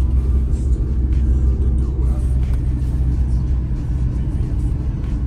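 A BMW rolls along a dirt field path, its engine a steady low rumble with road noise from the tyres, heard loud and close from inside the car.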